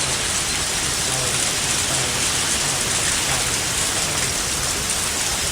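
Heavy rain pours steadily in the Higurashi visual novel game, a dense, loud, continuous hiss of a torrential downpour with no pauses.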